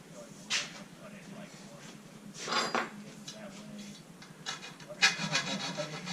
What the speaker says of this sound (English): I'm taking the file and just kind of cleaning up the edge where my saw just left some burrs on the edge